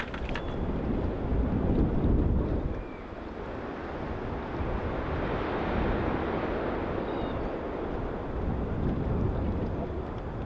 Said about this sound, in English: Right now we have some pretty strong winds blowing. It's pretty strong gusts.